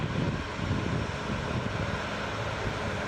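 A Boeing 777-200 airliner at Toronto Pearson airport gives off a loud, steady broadband jet-engine roar, a continuous rumble from nearby with no breaks and no speech.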